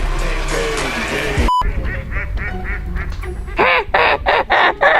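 Ducks quack in a quick run of loud, close calls toward the end, after a stretch of mixed outdoor noise and a brief sharp beep.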